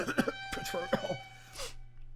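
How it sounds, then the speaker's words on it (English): A single abrupt, odd-sounding cough bursts out close by, with a brief raspy throat sound following in a quiet room. "I'm sorry, that was a weird cough."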